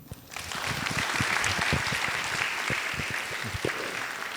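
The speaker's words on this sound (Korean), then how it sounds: "다시 한번 큰 박수 부탁드립니다." Audience clapping steadily at a university talk-show event on a college festival stage, a dense sustained applause filling the room with a few louder individual claps standing out.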